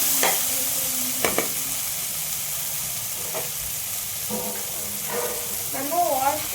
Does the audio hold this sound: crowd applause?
no